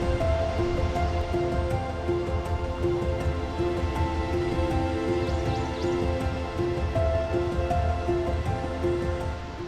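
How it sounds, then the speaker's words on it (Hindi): A river rushing nearby in the Manali valley, a steady broad wash of flowing water heard close and continuous, with faint birdsong and tonal sounds over it. "करीब 15-20 मिनट बाद हमें बहती नदी की आवाज़ सुनाई दी"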